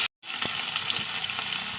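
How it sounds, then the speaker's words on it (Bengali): Katla fish sizzles in hot sunflower oil in a kadai, a loud, steady frying hiss after a brief cut, with a few soft pops and stirring clicks and no talk. "তেল গরম হয়ে গেছে, এখন মাছগুলোকে ছেড়ে দিচ্ছি।"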